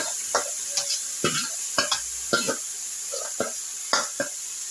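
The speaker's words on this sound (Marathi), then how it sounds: "पुरण शिजेपर्यंत, घट्ट होईपर्यंत आपल्याला हे ढवळत असं राहायचं आहे." Jaggery and lentil puran is stirred in a kadhai on a gas stove, giving a series of thick, wet squelching slaps and scrapes at an uneven rhythm, close by, over a faint hiss.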